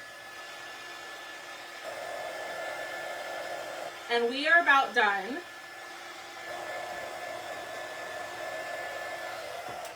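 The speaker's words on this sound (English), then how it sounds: "We're going to hit it with the dryer." A hair dryer blows on a freshly painted mason jar door hanger with blue and white paint, a steady close whir running throughout while someone talks briefly partway through.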